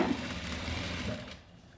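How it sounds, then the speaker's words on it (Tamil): A sewing machine runs at slow speed stitching a blouse, a steady close whirring rattle that stops shortly before the end. "நான் மெதுவாக தான் தைக்கிறேன், ஸ்பீடு போகலை, உங்களுக்கு புரியணுங்கிறதுக்காக"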